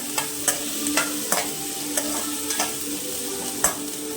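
Onions and green chilies sizzle in a pan while a spoon stirs them, a quiet steady fry broken by regular scraping taps roughly twice a second, close up and with no talking.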